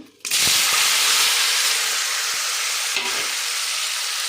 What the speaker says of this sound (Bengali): আমার তেলটা খুব গরম হয়ে গেছে এর মধ্যে একটু হালকা লবণ হালকা হলুদ দিলে কালারটা বেশ ভালো আমি এবার পনিরগুলো